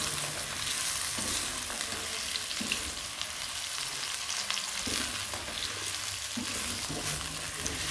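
Bottle gourd (lauki) pieces fry in hot ghee with a steady, dense sizzle throughout, broken by occasional stirring scrapes, close and fairly loud with no one speaking.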